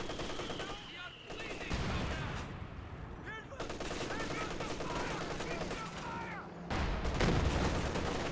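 Battle gunfire in Company of Heroes 2, rapid machine-gun bursts and scattered rifle shots crackle continuously, with a few heavier impacts and whistling sounds mixed in at moderate loudness.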